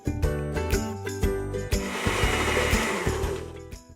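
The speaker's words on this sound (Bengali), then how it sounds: "এবার আমরা সব ইনগ্রিডিয়েন্টগুলো একসাথে ব্লেন্ড করে নেব।" A kitchen blender whirring as it purées basil pesto ingredients with mozzarella cheese, a loud, steady motor hum with rattling pulses as the contents churn, close up and without talking.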